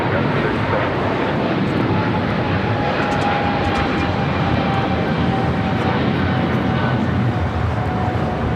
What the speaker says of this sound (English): This is Philippine Airlines Flight 113 taking off to Manila on a 777-300ER